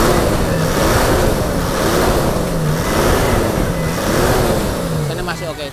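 A Toyota Land Cruiser VX 80 engine is blipped with small throttle openings, its tone rising and falling in repeated swells, loud and close, with some background noise and possible talk mixed in.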